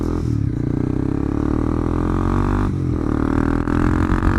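A 2021 Honda CB300R motorcycle engine rumbles loud and close, its Akrapovic exhaust burbling steadily with slight shifts in revs throughout.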